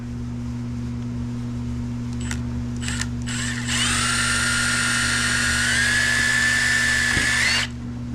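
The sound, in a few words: drill boring a hole in fiberglass radiator shroud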